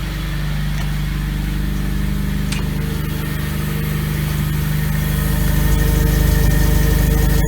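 A ZAZ Slavuta/Tavria engine with a new Bosal exhaust idles on choke inside a garage, a steady, even, moderately loud hum and rumble that builds slightly toward the end.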